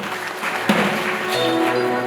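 Congregation clapping for Jesus at a church service, a steady broadband patter of many hands sustained throughout, with faint tonal music or voices underneath.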